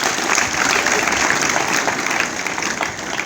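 A church congregation clapping in praise during a testimony service, a thick continuous patter of many hands at moderate loudness that fades slightly toward the end, with no speech over it.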